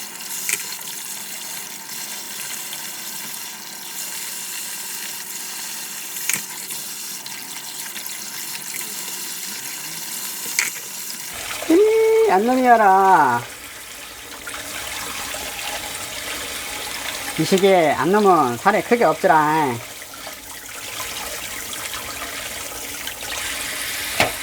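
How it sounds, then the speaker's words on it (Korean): Tap water runs steadily while thawed frozen blue crabs are rinsed and scrubbed clean in a sink, with splashing bursts as the crabs are handled, and a person talks intermittently. "그 다음에 꽃게를 씻어 보도록 하겠습니다"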